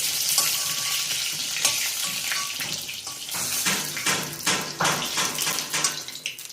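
Brinjal (eggplant) fries in oil for a village-style masala vangi rassa, a loud close crackling sizzle with repeated stirring scrapes and a watery hiss rising toward the end, and no talk.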